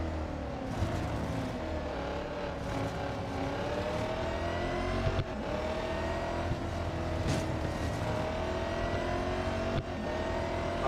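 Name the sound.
racing cars on track in video game Real Racing 3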